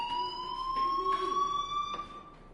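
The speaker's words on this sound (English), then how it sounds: "Hey, do you hear that fire alarm?" Fire alarm in Life is Strange Remastered rings as a steady electronic tone with faint pulsing, heard alone at moderate, slightly distant loudness.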